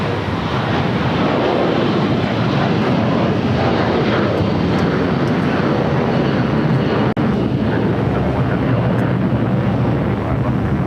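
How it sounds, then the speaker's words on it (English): An airliner bound for Honolulu rolls down runway 25 right at LAX on its takeoff run, a loud, dense engine roar filling the air steadily from start to finish. "the flight to Honolulu now rolling down at 25 right"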